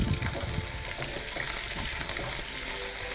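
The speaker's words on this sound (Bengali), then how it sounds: "পেঁয়াজটা একটু ভাজা ভাজা করে নিতে হবে না" Chopped onion sizzles loudly in hot oil in a pan, a dense continuous crackle with occasional stirring scrapes, close and unbroken.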